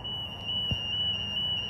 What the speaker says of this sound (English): Sorry about the background alarm noises.